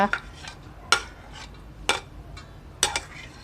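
Blanched seafood salad tossed in a bowl, a Thai spicy mixed seafood yam, giving a few sparse clinks and scrapes of utensils against the dish at irregular intervals, close and fairly quiet.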